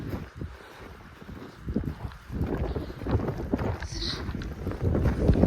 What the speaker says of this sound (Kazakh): Күн кәдімгідей жел екен.